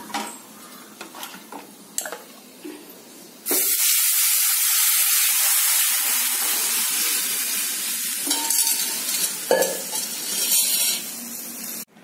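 After a few small crackles, rasam mixture is poured into a hot tempering of mustard seeds, chili and curry leaves, setting off a sudden loud, sustained hissing sizzle that slowly settles over several seconds.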